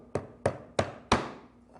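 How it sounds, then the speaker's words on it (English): A 1/4 inch chisel is tapped four times to square the corners of a small cabinet, sharp evenly spaced woody knocks close by, each ringing briefly in an otherwise quiet space. "So I have a 1/4 inch chisel that I'm using to cut and square the"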